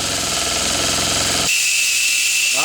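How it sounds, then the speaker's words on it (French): A stuck steam whistle on a live-steam model hisses loudly and continuously, its tone dropping to a thinner, airy hiss partway through, with a faint pitched whistle persisting near the end. "Ah, mon sifflet est bloqué."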